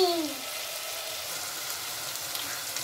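Green chillies sautéing in a pan, heard as a faint, steady hiss of frying oil that continues unbroken, with a brief tonal sound at the start.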